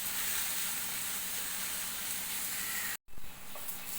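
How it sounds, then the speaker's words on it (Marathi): Fenugreek leaves (methi) sautéing in a pan give a steady, close sizzle and hiss that cuts out briefly for a moment before resuming. "आता आपली ही जी मेथी आहे ही मेथी आपण टाकून थोडीशी आपण परतून घेणार"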